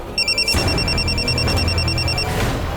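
A phone rings with a bright electronic trill in repeated bursts, loud and close, over a low background hum before the ringing stops.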